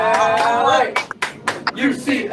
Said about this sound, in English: Hands up for an 8 clap.